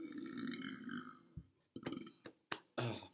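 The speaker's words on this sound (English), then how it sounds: "Burp warning, sorry." A single long, gravelly burp rumbles close to the mic for over a second, followed by a few short breathy sounds and brief clicks.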